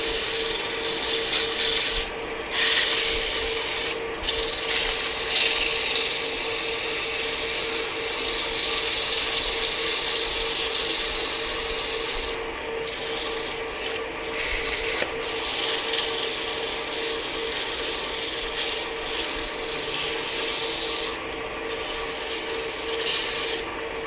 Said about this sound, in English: So, from here, I just sand it. I start usually with 150.